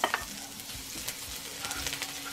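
Ginger and garlic sizzle and crackle in hot wok oil, a steady frying hiss with occasional sharper pops.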